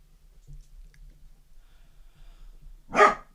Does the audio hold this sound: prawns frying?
no